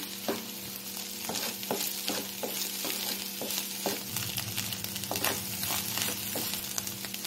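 Curry fries in a pan, a steady close sizzle broken by repeated light clicks and scrapes of stirring, with no talking.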